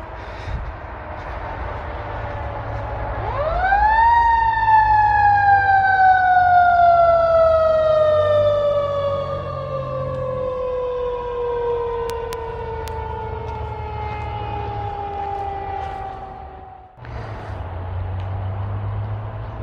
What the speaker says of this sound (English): I'm just gonna hold on for a sec while this siren goes by.